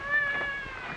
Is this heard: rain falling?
no